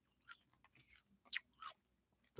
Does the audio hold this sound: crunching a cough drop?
yes